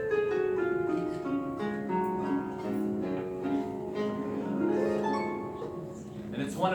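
A traditional bandura strung with nylon strings plays a flowing run of plucked, ringing notes in an unusual scale, close and steady with no talking.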